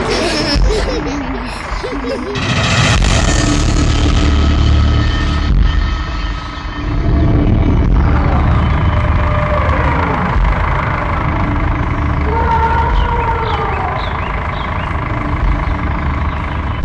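A tractor engine runs loudly and steadily for the whole stretch, a heavy low rumble with a rising rev in the middle, while people talk over it now and then.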